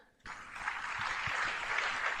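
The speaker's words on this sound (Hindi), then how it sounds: "आप गगन भेदी तालियों से वेलकम करें" Audience applause at a business seminar in India, welcoming a speaker, bursting in abruptly after a moment of quiet and holding as a steady, moderately loud wash of clapping.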